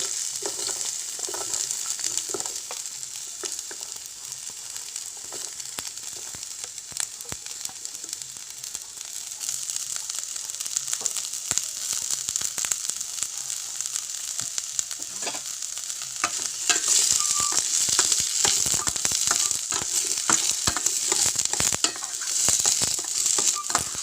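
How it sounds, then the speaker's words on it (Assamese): Chopped onions fry in hot oil in a pan for a matar paneer gravy, giving a steady close sizzle broken by scraping and clicking stirring strokes. "এইখিনি মই লৰাই এনেদৰে ৰংটো অলপ সলনি হোৱালৈকে ভাজি থাকিম।"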